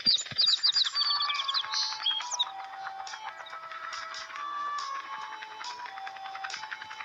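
Small birds in the Helidroid video game chirp in a busy, continuous chorus of high electronic tweets and warbles, brightest at the start and then steady and fairly soft, with no voices.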